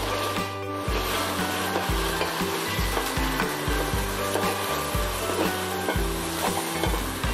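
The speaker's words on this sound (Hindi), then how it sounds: "अब मैं इसमें प्याज ऐड कर रही हूँ और इसे लाल होने तक भूनते हैं" Onions frying in hot oil for a chicken dish give a continuous, close sizzle, broken by regular knocking and scraping as a spoon stirs the pan.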